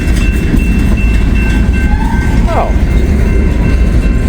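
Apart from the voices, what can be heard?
coal train passing on the rails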